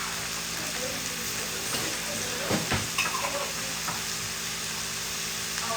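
Chicken browning in a pan, a steady low sizzle and frying hiss running throughout at moderate level, with a few stirring knocks near the middle.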